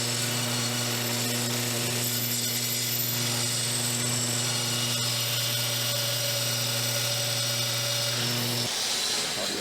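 A power saw runs steadily while cutting along a fence on a boat's bulwark, holding a constant droning whine with strong hum tones for about nine seconds before the pitch shifts as the cut ends.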